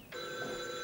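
A telephone bell rings in a stage play, a single faint ring that starts abruptly and holds steady, clear tones with nothing else over it.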